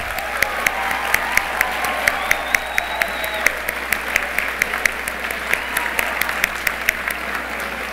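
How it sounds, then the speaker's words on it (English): Applause from a school convocation audience in Pulaski County fills an indoor hall, a steady dense clapping sustained for several seconds with no talk over it. "Please join me in a big round of applause."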